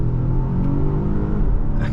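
Volvo XC90 T8 Recharge plug-in hybrid SUV accelerating hard from a launch, a loud, steady engine roar with deep rumble rising continuously over two seconds, heard from inside the cabin with no talking.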